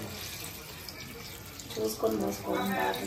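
Water splashes and pours into a pot of country chicken curry, a soft uneven stream rising toward the end, with faint background noise and nearby voices talking.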